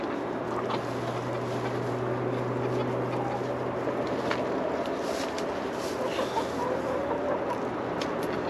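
Chickens clucking inside a frosty coop in sub-zero cold, soft scattered calls over a steady low hum and constant background noise, with a sustained low drone early on.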